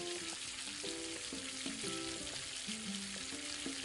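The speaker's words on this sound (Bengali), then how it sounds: "কাঁচা লঙ্কা চেরা ওই তেলের ওপরে দিয়ে দিলাম দিয়ে ভালো করে একটু নেড়ে নেবো" Slit green chillies hit hot oil in a pan and are stirred, giving a steady broadband sizzle throughout, with a tonal melodic layer running underneath.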